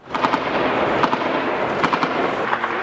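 A loud, dense rumble of blasts and crackling bursts from a kamikaze drone attack on Kyiv rolls on without a break, with sharper pops standing out now and then.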